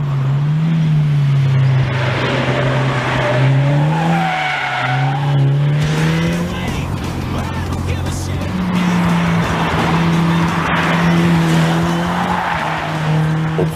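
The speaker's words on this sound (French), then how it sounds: "Au premier contact, le 2 litres TFSI 4 cylindres à injection directe turbo apparaît comme très discret." KTM X-Bow R with a 2-litre TFSI turbocharged direct-injection four-cylinder lapping the Folembray race circuit: loud, continuous engine drone whose revs climb and fall through gear changes, with tyre squeal mixed in.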